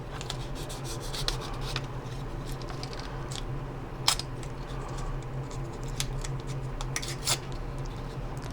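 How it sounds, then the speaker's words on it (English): Masking tape being pressed and smoothed onto the body of an AMT 1/25 '62 Thunderbird plastic model kit, soft rubbing and crinkling with scattered sharp ticks, quiet and close, no talking. "you're gonna just put the tape in the back there"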